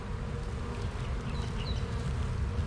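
Honey bees from a spring hive split buzz loudly and steadily in a dense close-up swarm drone, with no voices over it.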